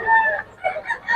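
A full stag rooster crows once at a market, close and loud, its rising-and-falling call lasting about a second.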